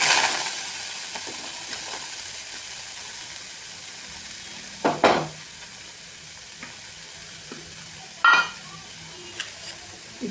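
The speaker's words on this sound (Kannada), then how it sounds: "ಗ್ಯಾಸ್ನ ಲೋ ಫ್ಲೇಮಲ್ಲಿ ಇಟ್ಟು ಇವಾಗ ಇದಕ್ಕೆ ನಾನು ಸ್ಟ್ರಾಬೆರಿ ಹಾಕ್ಕೊಳ್ತೀನಿ" Strawberries go into a pan over a low gas flame, giving a soft steady sizzle with occasional stirring scrapes and a couple of brief clatters of utensil against pan.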